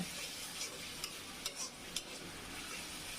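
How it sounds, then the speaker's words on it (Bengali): Spice paste with coriander powder being stirred and fried in a pan, a steady soft sizzle with a few brief scraping clicks of the spoon, close and alone. "দিয়ে একটু মশলাটা ভালোভাবে কষিয়ে নেব"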